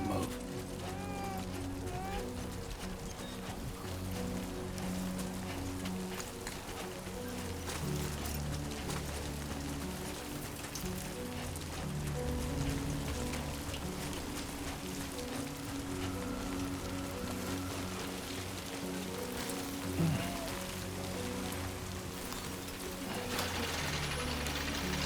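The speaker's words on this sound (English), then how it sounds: "Great. Rain. Gotta move." Steady rainfall in the video game Death Stranding 2: On the Beach, a continuous hiss of drops on surfaces layered under sustained game ambience and music, with no talking.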